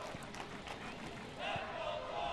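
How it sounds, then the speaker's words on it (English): Stadium crowd at a night soccer match between LA Galaxy II and Rio Grande Valley FC, a steady broad murmur that swells louder about halfway through, with no talk over it. "Good crowd tonight."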